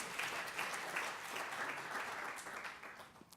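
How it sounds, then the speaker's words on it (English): Lecture audience clapping after a talk on brain-computer interfaces, a quiet, distant patter of many hands that holds steady and then tapers off at the end. "You can clap."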